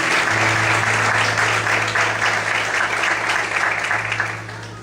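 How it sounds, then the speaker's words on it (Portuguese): A church congregation applauds during an evening service, a dense sustained wash of many hands clapping, loud and steady throughout, slowly tapering near the end, with a low hum underneath. "Vamos aplaudir e glorificar o Senhor nessa noite."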